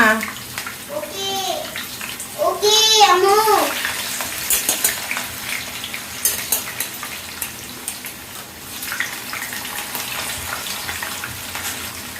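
Potato pieces dropped into hot oil bubble and sizzle in a steady hiss, with a voice speaking near the start and scattered clatters of utensils.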